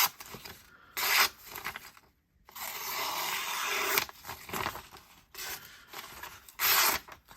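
A Vero Neuron knife slices through paper in long rasping strokes, several scraping passes separated by short pauses, close and clear with no talking.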